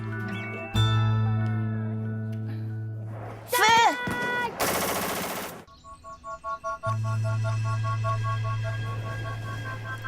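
Gunfire at a shooting range where children practise shooting: a short, loud burst of rapid shots stands out in the middle, set against steady music with a voice nearby.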